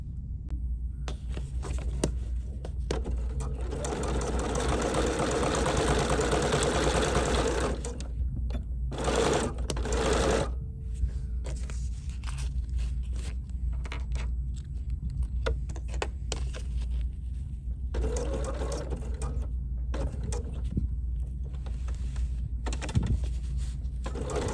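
A sewing machine running a regular number 2 zigzag stitch at about 1 mm stitch length while making freestanding umbrellas, whirring steadily for several seconds, then stopping and starting in shorter bursts, close by.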